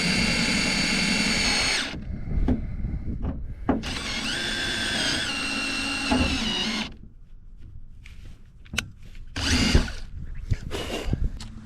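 A power drill bores holes in a Mazda Miata for mounting a large spoiler, loud whining bursts of a few seconds each separated by pauses, with clicks and handling noises in between.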